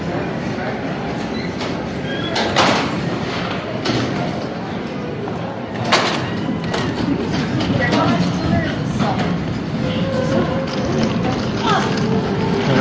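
Train at Union Station terminal in Denver, a steady rumbling rail drone with occasional clanks and knocks, heard amid a busy station backdrop with voices mixed in.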